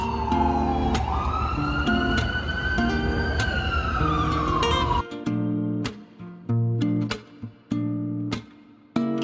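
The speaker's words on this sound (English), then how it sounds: "You can hear the sirens, you can hear the horns blowing." Emergency vehicle siren wailing loudly through Times Square in New York, a rising and falling tone for about five seconds, then honking car horns and busy street noise.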